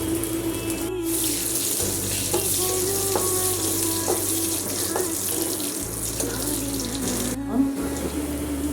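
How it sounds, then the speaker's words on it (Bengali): Dried chillies, chopped garlic and onion sizzle in mustard oil, with a steady hiss and occasional crackles throughout. A low rhythmic hum sits underneath. "এটা লাল করে ভেজে নেব।"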